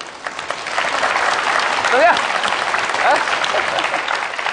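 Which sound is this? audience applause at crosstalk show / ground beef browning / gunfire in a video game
audience applause at crosstalk show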